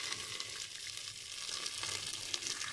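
Onion frying in a hot pan, a steady close sizzle and crackle with a brief splash of hot water being added.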